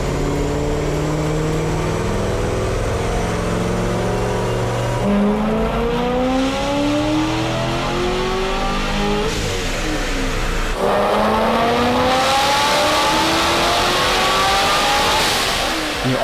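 Car engine pulling at wide open throttle in fourth gear on a chassis dyno, sweeping from about 2,500 to 6,000 RPM; a loud, steady roar climbs in pitch through repeated rising pulls, with no talking.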